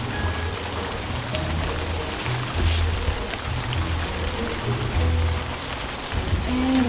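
Steady rain pours in a vegetable garden, pattering densely on a surface nearby, a continuous hiss with scattered heavier drips and no talking.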